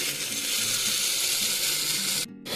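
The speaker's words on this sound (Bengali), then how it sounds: "ডালগুলোকে এখন খুব সুন্দর করে আমি একটু ভেজে নেব যাতে পুড়ে না যায়" Lentils (dal) frying in a pan for khichuri give a steady, close hiss and sizzle that drops away briefly near the end.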